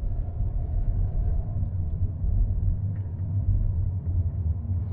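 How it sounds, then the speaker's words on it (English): A steady low tyre roar and road rumble fill the cabin of a Holden Commodore SV8 VY sedan cruising on the road, constant and even throughout with no talk. "I can hear the tyre roar"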